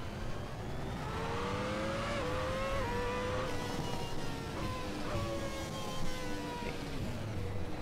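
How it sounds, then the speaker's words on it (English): A Ferrari F2002 Formula 1 car in the Assetto Corsa racing game drones steadily with a rising and falling gearbox whine over engine and wind noise, continuous through gear changes. "Hear the whine of the gearbox."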